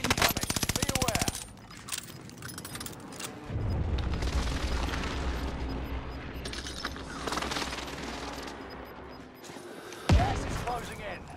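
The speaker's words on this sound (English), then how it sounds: "Allied precision airstrike incoming." Airstrike explosions in a combat video game: a rapid burst of gunfire-like impacts, then heavy rumbling blasts roll on for several seconds, ending in one sharp boom.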